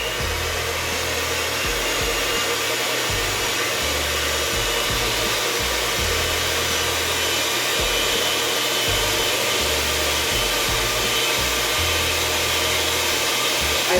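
Electric mixer whisking egg whites for low-carb oopsie bread, a steady close motor whir running throughout with a rhythmic low thumping as the beaters knock the bowl.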